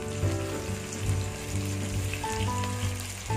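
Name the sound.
curry leaves frying in oil with onions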